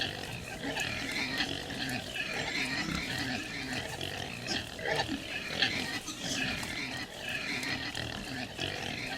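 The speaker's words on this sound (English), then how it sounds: "we're delivering pigs now" Pigs grunt and oink from inside a livestock trailer during a trucking video game delivery, a steady busy mass of animal noise running the whole time over a rumbling background.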